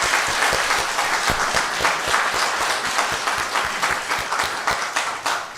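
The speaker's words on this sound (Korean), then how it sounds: "우리 박수하겠습니다" Church congregation applauding during a Sunday morning worship service at Naksan Church, a dense steady round of clapping with sharp individual claps near the microphone, sustained throughout without talk.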